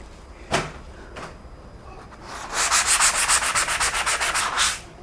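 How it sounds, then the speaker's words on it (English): Sanding a touch-up spot on drywall during an entryway makeover: a couple of light scrapes, then a rapid run of rhythmic back-and-forth sanding strokes, close and fairly loud, with no talking. "I just looked over and I saw a spot and I'm about to sand it."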